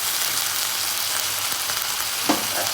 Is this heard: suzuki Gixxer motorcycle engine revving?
no